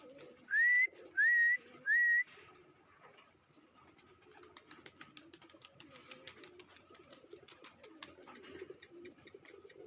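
Pigeons of various colours and breeds give three loud close rising coos in quick succession, then a quieter patch of scattered clicks, rustling and faint chirps.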